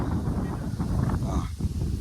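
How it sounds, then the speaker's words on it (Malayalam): Strong wind buffets the microphone during a trek, a constant low roaring rumble with gusty surges that lasts the whole time and has no talk over it. "ഭയങ്കര കാറ്റാട്ടോ"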